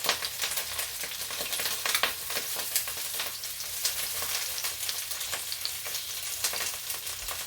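Kale sizzles and fries steadily in a hot pan, a continuous bright crackle with scattered pops and faint stirring scrapes, close and even throughout with no talking.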